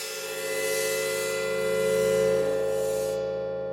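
Glitchy sound effect built in Ableton by chopping a sample with a chopper effect: a sustained, buzzy tonal drone with stacked harmonics swelling slightly in loudness, then its upper shimmer cutting off abruptly near the end.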